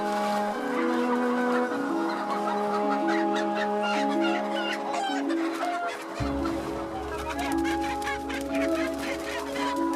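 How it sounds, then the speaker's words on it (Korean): A crowd of chickens in a poultry farm clucks and squawks continuously, with busy overlapping calls close by and a low mechanical hum entering partway through. "닭들은 영문도 모른 채 마지막까지 먹이 활동을 합니다."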